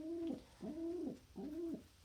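Pigeon cooing at a bird feeder, three close, clear two-part coos in a steady rhythm with short gaps between them.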